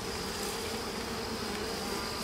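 Honey bees in a nucleus colony box make a steady, dense buzzing hum that runs unbroken and fairly close throughout, with no voices over it.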